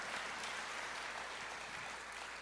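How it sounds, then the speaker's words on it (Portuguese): A church congregation applauds for Jesus, a continuous, even roar of many hands clapping at moderate distance with no pause, faint and roomy throughout. "Dê uma salva de palmas para o Senhor Jesus"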